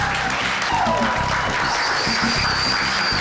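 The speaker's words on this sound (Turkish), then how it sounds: "Ada Hanım'a da bir alkış" A group claps to congratulate a woman in an office setting, a short burst of steady, close applause with some voices mixed into it.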